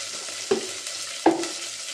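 Onions frying with ginger garlic paste in a tempering over medium flame, a soft steady sizzle broken by two sharp scraping stirs of a spoon in the pan.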